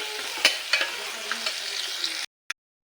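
Onions sizzle steadily in hot oil in a pan while potatoes are tipped in, a close frying hiss punctuated by several stirring knocks before falling to silence with one final tap.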